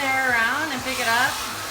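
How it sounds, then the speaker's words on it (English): A handheld blow dryer runs steadily at close range while medium-length hair is dried, giving a constant loud rush of air with a slightly shifting tone. "I am not taking the blow dryer out"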